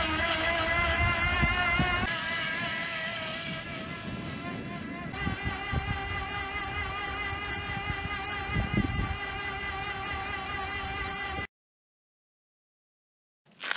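An electric trike rides on motor power alone without pedaling, giving a steady, tonal motor whine mixed with wind rush for about eleven seconds before falling silent.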